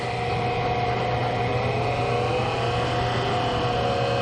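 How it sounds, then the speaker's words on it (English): A ProtoTrak KMX CNC mill spindle spins in high gear at about 1500 RPM, holding a steady, close whine with a constant mechanical hum and no change in pitch. "So I'm going to turn my spindle on in high gear."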